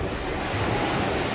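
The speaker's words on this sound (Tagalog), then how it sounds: "Ang lakas ng alon." Strong ocean waves crash and roar continuously on the beach at Nasugbu, Batangas, a loud, steady surf wash mixed with wind noise on the microphone.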